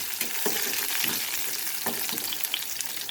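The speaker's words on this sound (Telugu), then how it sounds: "తర్వాత వెల్లుల్లిపాయలు ఎండుమిర్చి కూడా వేసేసుకున్నాం ఫ్రెండ్స్." Garlic and dried red chillies sizzle in hot oil for a tempering, a steady close crackle with small stirring pops throughout, no voices.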